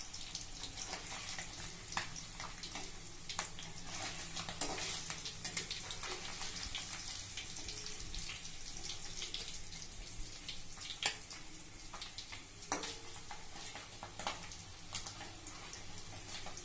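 Paneer cubes frying in a pan for palak paneer, a steady soft sizzle with faint crackle running throughout at low level, occasional sharper clicks and pops, no voices.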